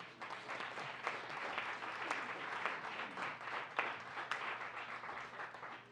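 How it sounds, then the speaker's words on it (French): Audience at an evening talk on the impact of giving applauds steadily for several seconds, a dense patter of many hands heard from a moderate distance in a hall. "premièrement, l'applaudissement pour ça"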